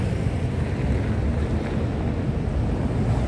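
Steady broadband sea surf washing onto the shore of a bay, mixed with rumbling wind buffeting the microphone, continuous and fairly loud with no talk.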